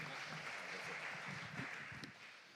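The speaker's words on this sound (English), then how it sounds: "But give him a welcome applause for here" Audience applause greeting a guest presenter at an inspirational talk event, a steady wash of clapping held at an even level for a few seconds, fairly quiet and distant-sounding.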